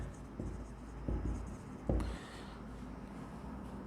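Pen writing on paper while filling in a financial statement with adjustments, quiet scratchy strokes with a few louder taps across a low, steady room background.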